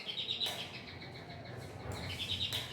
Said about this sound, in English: don't laugh, that's the doorbell